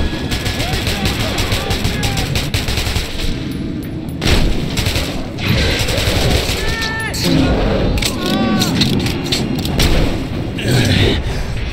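Gunfire and explosions fill a Metro 2033 Redux battle, with dense bursts of shots and heavy booms crowding each other over a rumbling background, loud and close, while shouting voices break in between.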